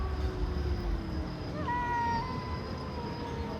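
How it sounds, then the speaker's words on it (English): Stray cats in a fight, with a drawn-out, wavering yowl rising over a steady background hum, fairly close and with no talking. "this is a full cat fight"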